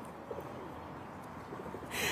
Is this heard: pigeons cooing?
yes